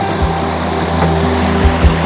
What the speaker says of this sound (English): A mini waterfall.